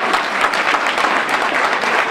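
Dense, close applause from a breakfast-event audience, a continuous even roar of many hands clapping throughout.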